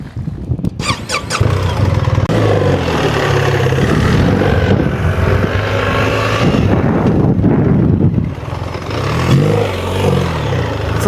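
A BMW R1300GS adventure motorcycle in Enduro Pro mode, its engine running close by with a steady droning idle and some rising revs, with squeaky mechanical whines over the top and no talking.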